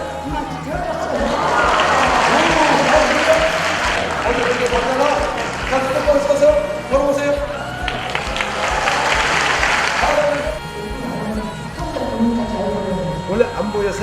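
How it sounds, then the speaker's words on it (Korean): A church congregation claps in thanks to God during a service, a dense sustained round of applause with music and voices mixed in, thinning out toward the end. "우리 감사의 영광의 박수로 하나님 감사하도록 하겠습니다"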